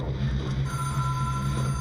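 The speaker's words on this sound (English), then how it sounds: "let's pick up the phone, I guess" Telephone ringing in the video game Control, a steady tonal electronic ring that holds throughout over a low, constant background hum.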